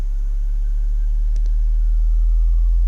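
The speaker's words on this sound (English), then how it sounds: "You can hear the bloody police sirens outside" A faint, wavering police siren drifts in from a distance outside over a steady low engine hum, with a brief click partway through.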